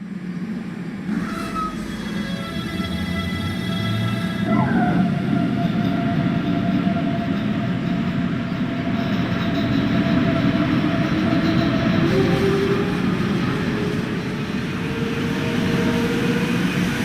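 A BR423 S-Bahn electric multiple unit in Train Sim World 2 pulling away, with a steady loud rolling rumble, a rising electric motor whine and the clatter of wheels over the rails, heard alone throughout.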